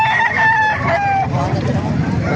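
A rooster crows once, loud and close, its long call drawn out over a steady din of background noise and low rumble.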